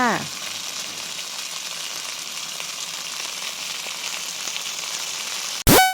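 Eggs dry-roast in a pan underneath a house with a steady, close sizzling crackle throughout, cut off at the end by a sudden loud swoosh.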